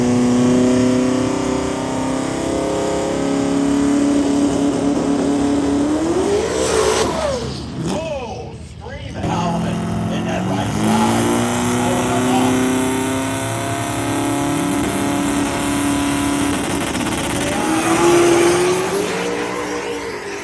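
Drift cars at an Arizona drift event scream past with high, wavering engine revs, a continuous loud roar that rises and dips as throttle changes, with a brief lull before another car howls in close.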